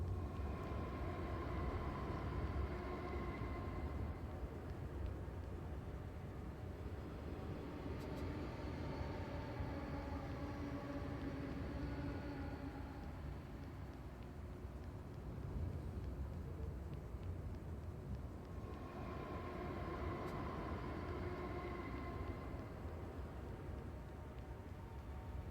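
The underworld train station ambience in Shin Megami Tensei IV: Apocalypse is a steady, dense low rumble that swells gently now and then, continuous and even throughout with no voices.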